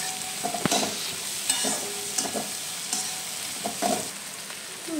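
Fasting-style okra (bhendi) with crushed peanut powder is stirred in a pan, a sizzling hiss running continuously beneath intermittent scraping spatula strokes that come every second or so.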